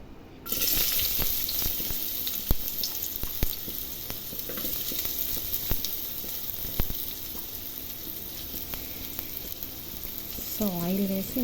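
Oil sizzling steadily in a pan as onions, green chillies and curry leaves go in for a tempering, with a dense, even frying hiss throughout and a few light clinks of utensils; no talk.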